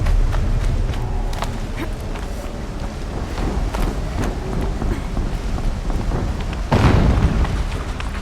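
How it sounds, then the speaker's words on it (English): An explosion in the snowy Horizon Zero Dawn video game, amid a windy rumbling backdrop with a loud low boom bursting near the end, heard alone without talk. "An explosion."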